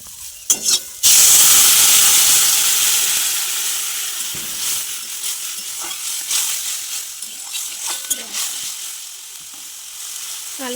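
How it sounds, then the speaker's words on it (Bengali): Hot water poured into a pan of fried bitter gourd for a village-style fish curry: a loud burst of sizzling hiss that slowly fades into softer bubbling and stirring clatter, close by with no talk. "এই গরম জলটা আমি এখন এতে ঢেলে দেবো।"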